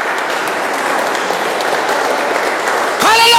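A church congregation gathered at an army barracks cheers and applauds loudly in a steady, continuous roar of clapping and shouts, with a preacher's voice breaking in at the end.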